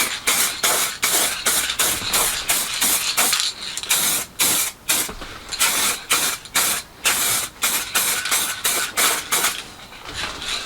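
Acrylic lacquer sprayed from an aerosol can onto both halves of a small wooden tensegrity piece in a shed workshop, a long run of short, loud hissing bursts with brief gaps between them, close to the mic and with no talk.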